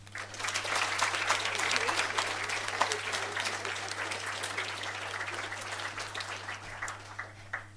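A room of guests gives thank-you applause to a senator and an honourable member: sustained, busy clapping that peaks early and slowly thins out over several seconds, with a steady low electrical hum underneath.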